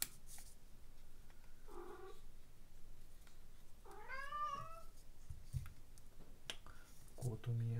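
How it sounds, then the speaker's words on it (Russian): A house cat gives a single rising-and-falling meow midway, faint against a quiet room, with a soft chirp earlier and a few clicks and light knocks around it. "кот у меня на улицу просится."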